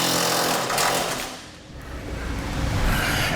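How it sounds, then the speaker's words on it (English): Power tool running a carriage bolt down with a flange nut on a fifth wheel hitch mount for a 2008 Ford F-250, a loud close continuous whir with a brief dip midway. "Now we can go ahead and run down our carriage bolt."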